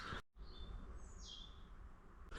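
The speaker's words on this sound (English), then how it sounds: "I can just hear the birds." Small birds chirp along a quiet walkway in a historic village by the Forth, several short high calls and one rising trill over a steady outdoor hum.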